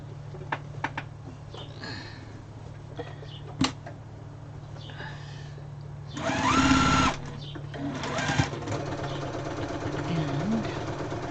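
Sewing machine stitching fabric scraps together, a close, sustained mechanical whir that runs in short bursts with quieter pauses between them.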